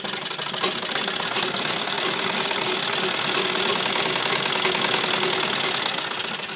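A sewing machine stitching along the edges of fabric, running in a continuous fast mechanical rattle at a steady, close level without pauses.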